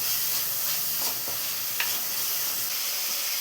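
Onions and pumpkin sauté in a pan while the onions turn translucent. A constant hissing sizzle is broken by a few soft clinks of a spoon, and nobody speaks.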